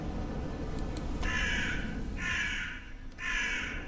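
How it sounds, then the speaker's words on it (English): Three loud, harsh crow caws ring out one after another in a video game, each drawn out, over a steady background hum. "a stock sound of crows is crying in the air"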